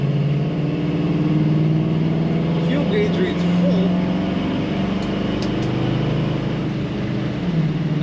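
A 1966 Ford Mustang Fastback 2+2 engine idling with a steady, low rumbling hum at close range, while someone talks over it.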